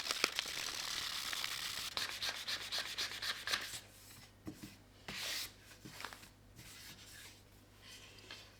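Sandpaper worked by hand across a piece of wood for DIY wood art, a run of quick scratchy back-and-forth strokes that start dense and steady, then thin into slower, separate rubs, close and fairly quiet.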